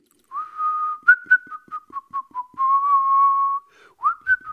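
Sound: man whistling a song

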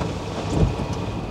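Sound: heavy rain with thunder during a typhoon

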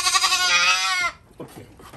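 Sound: goat bleating

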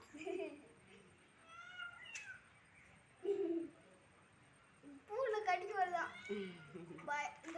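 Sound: cat meowing while being held

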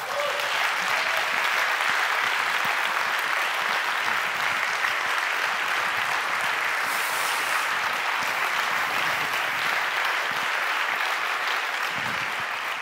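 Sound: applause

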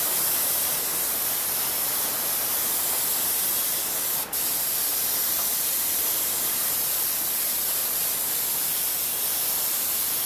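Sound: airbrush spraying paint

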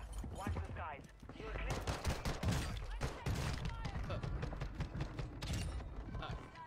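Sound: gunfire in video game Warzone

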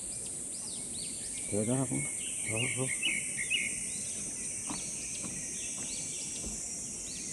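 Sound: birds singing on a mountain trail

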